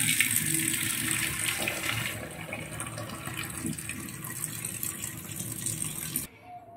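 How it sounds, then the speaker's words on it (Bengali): Hot water drained off freshly boiled food in a home kitchen, a steady splashing pour into a sink that runs loud for about six seconds and then cuts off abruptly. "এবার তাহলে আমি জলটা সেকে ফেলে দেব"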